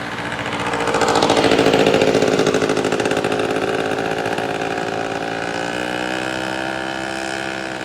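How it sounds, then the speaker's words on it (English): A motorbike engine drones close behind on a seaside boardwalk, swelling loud as it nears and then holding a steady, buzzing hum with no one talking. "It sounds like a motorbike coming up behind me."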